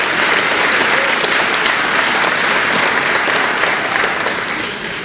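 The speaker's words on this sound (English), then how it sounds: "Big round of applause for our past presidents." Gala awards audience gives a big round of applause for past presidents, steady dense clapping filling the room from start to finish and easing off slightly at the close.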